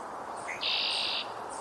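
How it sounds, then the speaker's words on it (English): A single bright, buzzy trill of a red-winged blackbird rings out for about half a second over a soft background hiss, calling from fairly close by. "Red-winged blackbird."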